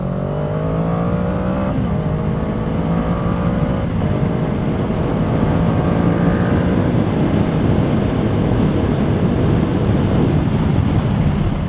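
A motorcycle engine revs up through accelerating pulls, captured on a GoPro microphone, loud and close with its pitch climbing in steps under heavy, constant wind rush.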